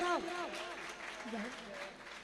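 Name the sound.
audience applause welcoming performer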